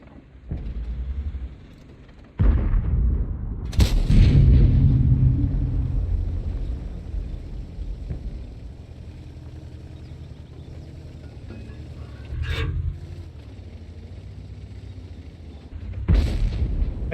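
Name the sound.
artillery fire in the video game World of Tanks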